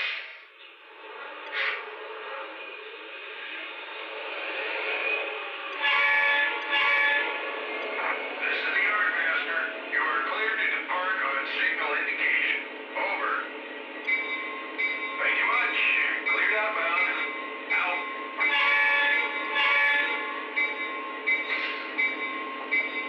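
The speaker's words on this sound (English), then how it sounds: "let's go ahead and start the 3170 up, and I'll eventually swap it out for another locomotive" CSX locomotive 3170 starts up and begins rolling. Its droning engine tone builds and holds for over twenty seconds, and several sustained horn-like blasts ride on top.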